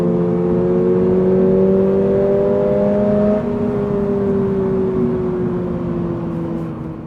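A 2022 Toyota GR86 engine heard from inside while driving, a loud, steady drone that holds at a rising pitch and then eases lower as the car settles, with no talking.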